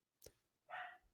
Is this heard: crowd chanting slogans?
no